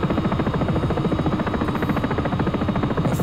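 A Sikorsky S-76 helicopter hovering in the X-Plane 11 flight simulator: rapid, steady rotor chop over a loud, continuous engine drone, close and unbroken, no talking.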